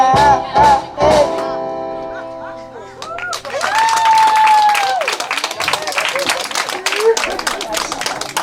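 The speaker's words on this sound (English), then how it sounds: "Yes, ladies and gentlemen, a good round of applause." A few loud musical notes ring out, then a crowd bursts into sustained applause and cheering while a voice speaks over it.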